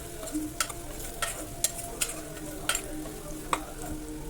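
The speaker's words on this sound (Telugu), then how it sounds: "ఇదంతా చక్కగా ఫ్రై అవనింది" Chopped onions frying with turmeric in a pan for a country chicken curry give a steady, close sizzle, broken by sharp clicks and scrapes as a spoon stirs them, with no voices.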